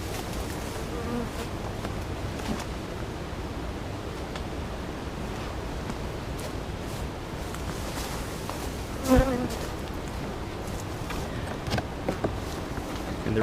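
Honeybees buzz around a beehive with honey supers, a dense steady hum of many insects close by, with a brief knock partway through and no talk.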